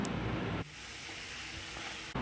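Tomatoes and small onions sauté in a pan for a tomato curry, making a quiet, steady sizzle and hiss that cuts in and out abruptly over a few seconds.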